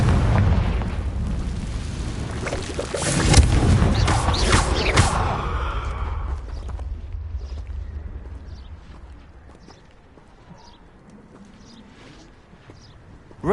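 Confringo fire spell explosions in the video game Hogwarts Legacy: a loud burst of blasts with booming rumble in the first few seconds, then fading to a quieter background with faint scattered effects.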